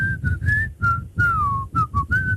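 A person whistles a melody in short, clear phrases, alone and close, with no talking over it.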